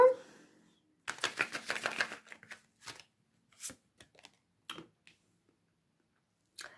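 Tarot cards are drawn from a deck and laid onto a surface, a short burst of papery riffling followed by scattered single flicks and soft taps, close and quiet with long silent gaps.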